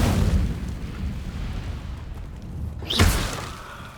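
Incendio fire spell cast in Hogwarts Legacy, a low rumbling roar that swells into a sharp whooshing burst of flame near the end, with a fading crackle.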